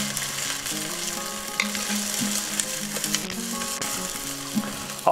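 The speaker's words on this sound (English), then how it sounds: "We're also gonna throw in a couple of cloves of diced garlic. And we just wanna cook those to translucency." Diced garlic frying in olive oil alongside sautéed vegetables in a pan for tomato bisque, a steady close crackling sizzle with occasional small pops and light stirring, heard alone without talk.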